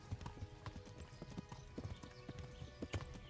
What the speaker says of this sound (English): you're going to have to keep galloping, horse